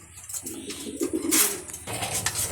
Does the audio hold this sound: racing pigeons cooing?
yes